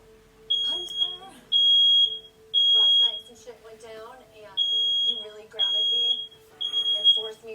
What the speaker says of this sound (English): somehow the smoke detector started going off